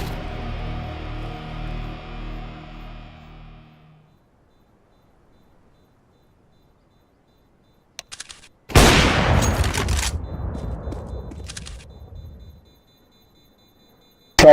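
Counter-Strike gunfire bursts out as a loud, sharp volley of shots after a long near-silent stretch, followed by a decaying rumble and a few scattered later shots.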